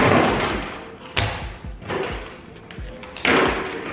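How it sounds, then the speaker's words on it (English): Several heavy thuds and scrapes of chairs being shifted about indoors, irregular and close, with faint background noise. "Maybe move some of these chairs"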